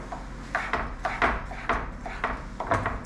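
Food being mixed in a full bowl, with a series of close, irregular scraping and clinking strokes of a utensil against the bowl.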